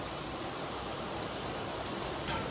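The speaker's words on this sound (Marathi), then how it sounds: "खूप जोराचा पाऊस चालू आहे." Heavy rain pours down in a dense, steady hiss that stays even and unbroken throughout, with no voices or other sounds.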